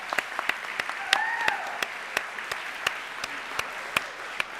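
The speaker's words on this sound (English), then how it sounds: "Lauren, you want to give her a round of applause?" An audience at an 8th grade recognition ceremony gives a round of applause, heard as sparse, sharp individual claps spaced irregularly over a soft background hiss, with a brief faint voice.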